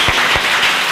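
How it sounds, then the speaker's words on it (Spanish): Audience applause in a radio studio setting, a steady broadband wash of clapping filling the short moment at close range with a few louder individual claps standing out, no voices over it. "Ese aplauso más fuerte, hombre, que habéis estado ahí apagado."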